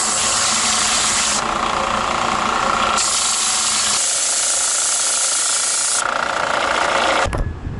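A power sander smoothing small wood pendant blanks, a loud continuous hissing whir whose pitch shifts as pieces are pressed against it, cutting off abruptly at the end.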